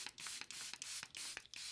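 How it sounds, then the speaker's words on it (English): Charlotte Tilbury Airbrush Flawless Setting Spray misted onto a face in a run of rapid, short hissing pumps, close to the mic with no talk. "So I'm going to be using my Charlotte Tilbury Airbrush Flawless Setting Spray."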